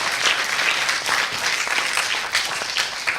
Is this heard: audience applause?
yes